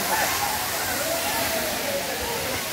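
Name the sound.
waterfall in the rain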